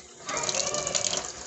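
Water splashes steadily into a paksiw cooking pot for a short pour, close and fairly loud, with no talk over it.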